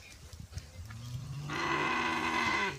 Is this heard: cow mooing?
yes